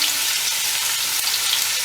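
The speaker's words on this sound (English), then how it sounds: "we're ready to add the next step, which is our sliced onions. So we'll pop those into the oil." Sliced onions hit hot oil with whole spices for a rustic Rajasthani chicken curry, giving a steady, close, loud sizzling hiss with fine crackles and no voices.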